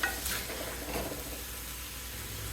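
Snake gourd poriyal stirred in a hot pan makes a continuous soft sizzle with a couple of brief scraping strokes near the start, moderately close and with no talk.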